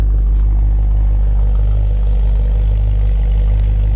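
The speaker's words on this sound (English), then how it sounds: "Dual exhaust sounds great." A 1966 Ford Mustang GT V8 with dual exhaust idles steadily nearby, a loud, even low rumble holding for the whole stretch with no voices over it.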